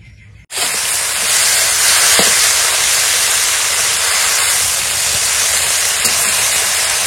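Fish heads sizzle loudly in hot oil, then taro leaves go in, giving a steady, close, hissing fry that holds for several seconds after a brief quiet start.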